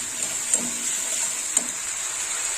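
Paneer with coriander and chili powder sizzles steadily in a pan, with two light scrapes of the stirring spoon breaking through the constant hiss; close, moderately quiet, no voices.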